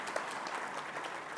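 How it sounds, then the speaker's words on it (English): Applause from a business conclave audience, a dense, steady wash of many hands clapping together at close range for the full moment, with no pause or voice above it. "can we have a big round of applause"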